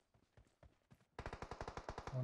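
Gunfire in the mobile battle royale game PUBG Mobile: scattered quieter shots at first, then a loud rapid automatic burst of about a dozen evenly spaced shots, ending in a sustained tone.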